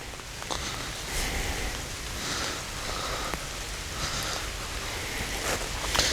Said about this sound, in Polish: niestety leje jak diabli